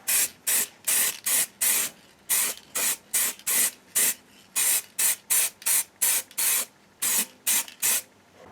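Rattle cans of spray paint hiss in rapid short bursts over a custom motorcycle tank, about two dozen sharp sprays in a fairly regular rhythm with brief pauses between them.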